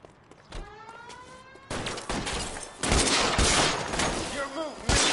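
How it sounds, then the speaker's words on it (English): Suppressing gunfire in L.A. Noire, a quiet start giving way to dense, sustained volleys of shots that grow louder and heavier toward the end, with some tonal chirps mixed in. "Suppressing fire!"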